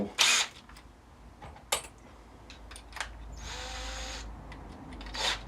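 A power drill whirs in a short, faint burst for about a second while working on an Arrma Fireteam RC car, surrounded by scattered clicks and taps of parts being handled.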